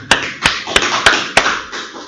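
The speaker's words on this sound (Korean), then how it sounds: "축복합니다. 박수." A church congregation claps after a sermon: five sharp, evenly spaced claps over about two seconds, close and distinct, with soft room reverberation between them.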